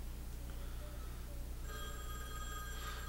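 A telephone rings in a 1994 horror film, Wes Craven's New Nightmare, its bell tones starting partway through and repeating in a steady ringing pattern over a low background hum.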